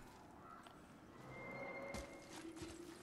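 Horses in the video game God of War whinny and clop softly, a faint neigh with a few hoof knocks over quiet ambient background.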